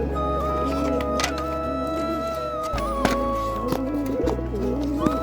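Pigeons in a home loft cooing softly, low repeated coos over a constant hum, close by and fairly quiet, with faint chirps mixed in.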